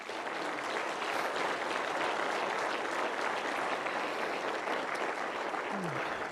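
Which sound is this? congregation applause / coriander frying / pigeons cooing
congregation applause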